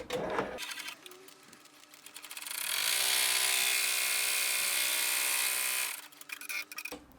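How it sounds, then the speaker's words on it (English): An embroidery machine stitches a placement outline in white thread for an in-the-hoop bear outfit, a steady mechanical whir that swells loud and continuous for a few seconds between quieter stretches of motor noise. "our first thing is going to be our placement stitch"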